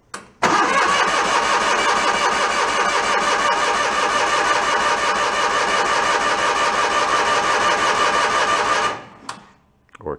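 An old, once-scrapped John Deere engine catches and runs steadily for about nine seconds, a loud, dense mechanical drone with a quick clatter at the start, then cuts out abruptly near the end.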